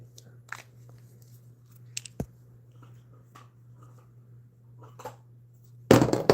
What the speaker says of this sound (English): I gotta take the bone away from you now because that crunchy noise is too loud